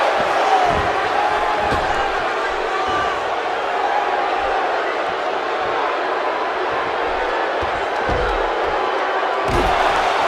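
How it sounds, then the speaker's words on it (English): A wrestling arena crowd in the WWE 2K17 video game cheers and roars in a dense, continuous wash, with occasional thuds and slams breaking through the steady noise. "by the sound of this crowd, I think they're getting what they wanted"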